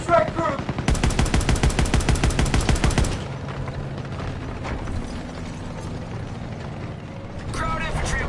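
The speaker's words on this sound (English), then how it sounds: "Small arms fire." Small arms gunfire in Call of Duty, a loud rapid automatic burst for a few seconds, then quieter distant shots and mechanical battle noise, with a short rattling burst near the end.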